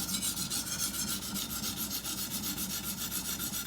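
Chef's knife sharpened on a coarse Washita natural stone: rhythmic gritty scraping strokes, back and forth about five per second, loud, close and steady, with no talking.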